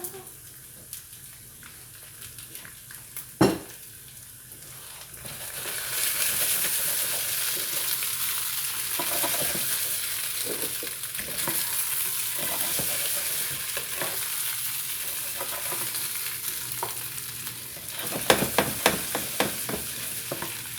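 Liver and onions fry in a pan, with a loud continuous sizzle that swells after a few seconds and holds steady, broken by intermittent scraping and stirring knocks nearby.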